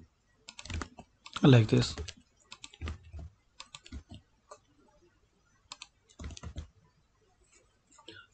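Computer keyboard typing in Outlook, appearing as short bursts of quick key clicks between pauses, close and fairly quiet, with brief speech in the middle.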